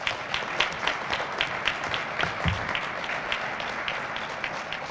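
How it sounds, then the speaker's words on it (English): An audience applauds the staff at the opening of the New Castle County Hope Center. The clapping is steady and dense and sounds fairly close, lasting the whole time at an even level without any speech. "Can we give them a big round of applause?"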